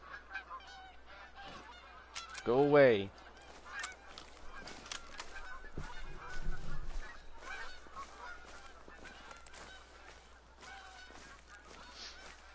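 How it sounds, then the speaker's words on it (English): Geese honk in a loud, raucous burst near the start, then a second, lower flurry follows, while a voice speaks briefly over the birds and a steady outdoor hum continues underneath. "I hate you, geese."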